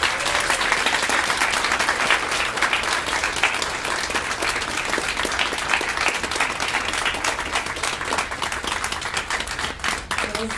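Audience applauding after a talk by a chef, dense sustained clapping that fills the room evenly for the whole stretch without a break.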